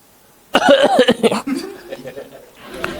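A stand-up comedian imitates a sick office worker with a burst of several rough, exaggerated fake coughs close to the microphone, followed by softer chuckling and murmured laughter.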